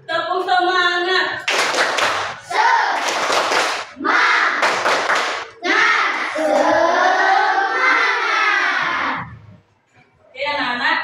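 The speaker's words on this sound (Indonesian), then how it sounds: "Tepuk semangat." Schoolchildren in a classroom perform a rhythmic clapping chant led by a teacher, sharp bursts of group claps alternating with loud shouted chanting in a repeating pattern.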